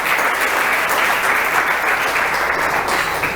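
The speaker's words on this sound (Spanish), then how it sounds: "Denle un aplauso, Señor" A church congregation claps together in a dense, sustained round of applause that holds steady for a few seconds.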